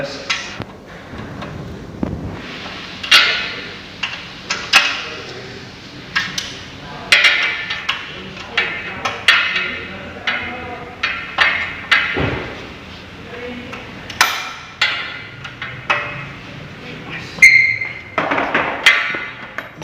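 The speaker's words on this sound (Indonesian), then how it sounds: "mengencangkan baut pada tie rod bagian kiri dengan menggunakan kunci shock 19" A 19 mm socket wrench tightens the bolt on the left tie rod of a hydraulic rack-and-pinion power steering system, giving repeated sharp metallic clicks and knocks in uneven bursts throughout.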